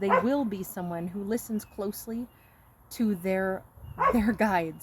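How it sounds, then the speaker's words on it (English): A dog named Aries barks and yips repeatedly outdoors, reacting to hawks calling nearby; the sharp, fairly close barks come in bursts under a person talking steadily. "my dog Aries is barking because he hears the hawks crying out"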